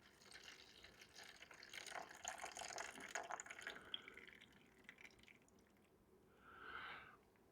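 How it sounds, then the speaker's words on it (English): Water poured into a pan of potted brassica seedlings for bottom watering, a soft splashing and trickling pour that swells through the first half, tapers off, then gives a brief final gush near the end. "I'm going to bottom water these down in the pan."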